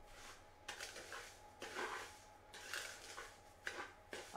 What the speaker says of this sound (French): je vais prendre une cuillère. Donc vous mélangez la noix de coco et le sucre.